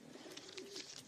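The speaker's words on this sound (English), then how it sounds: "This is a good little English carrier pigeon." A carrier pigeon in a First World War setting gives a soft, low cooing murmur lasting about a second, faint and steady against a quiet background.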